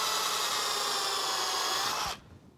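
A power drill whirs steadily at high speed for about two seconds, then cuts off abruptly, leaving quiet room noise.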